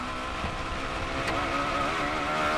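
A Radical SR8 race car accelerating hard on the Nürburgring, its engine note climbing steadily in pitch as it pulls through the gears, loud and close with onboard wind roar and no talk.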